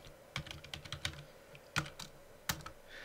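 A command is typed on a computer keyboard while configuring MySQL, with distinct close key clicks in an uneven rhythm and a few sharper strikes, such as the Enter key, in a quiet room.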